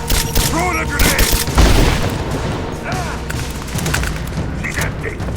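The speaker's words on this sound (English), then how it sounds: "Throw in a grenade!" Dense game combat in Rise of the Tomb Raider: several booming, thudding blasts and bursts of gunfire crowd together, loud and close, with shouted voices mixed through the din.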